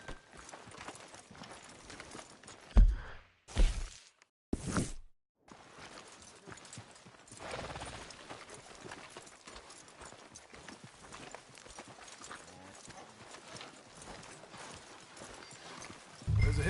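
Horse hooves clip-clopping at a steady walking rhythm on a road in a console video game, continuous over a dense background wash with a few brief dropouts near the start.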